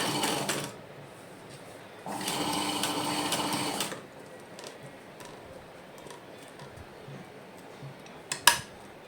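A domestic sewing machine doing ordinary straight stitching, fitted with a presser foot, runs in short bursts, a loud steady whir for a couple of seconds between quieter stretches, close up with a sharp clack near the end.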